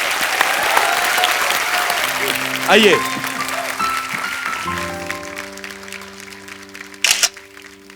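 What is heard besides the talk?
loud audience applause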